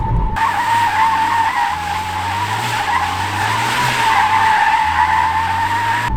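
A Honda car spins in place around 40 km/h with a continuous loud tire squeal and skid, a low engine drone rising and falling underneath, close and unbroken throughout.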